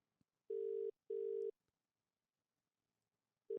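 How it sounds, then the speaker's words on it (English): A phone call to a toy shop ringing out on the line: a clear double burst of steady ring tone, then a pause of silence before the next ring begins. "Mike, dial that phone."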